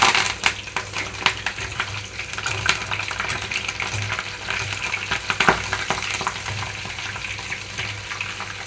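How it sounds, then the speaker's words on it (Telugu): Curry leaves and sliced green chillies fry in hot oil for a Telugu-style cabbage 65, giving a steady, loud crackling sizzle with scattered sharp pops and bursts throughout, with no talking. "ఇప్పుడు ఇందులోకి కొన్ని కరివేపాకు రెమ్మలు అలాగే మూడు నాలుగు పచ్చిమిరపకాయలు స్లైసెస్గా కట్ చేసుకొని వేస్తున్నాను"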